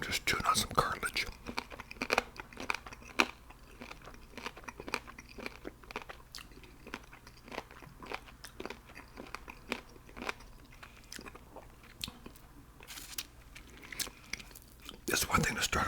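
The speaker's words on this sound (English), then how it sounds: "I'm just chewing on some cartilage." Chicken wing cartilage being chewed close up, giving a run of rapid, crisp crunches and bites that sound intimate and near, with a soft whispering voice in places.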